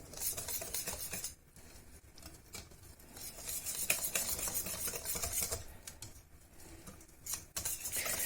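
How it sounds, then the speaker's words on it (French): A spoon stirs baghrir batter in a bowl, giving a soft, continuous swishing and light clinking close by, with brief pauses and no talking. "Là, je vais bien mélanger ma préparation."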